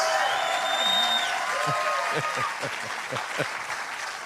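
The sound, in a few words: audience applause at stand-up comedy show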